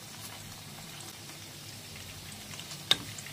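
Soft paneer pieces frying in hot oil, about to be lifted out of the pan: a faint, steady sizzle runs throughout, broken near the end by one sharp click.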